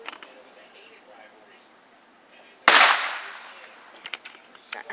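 A single sharp firework bang bursts out midway, followed by a crackling, hissing tail that fades, with faint voices and noise around it.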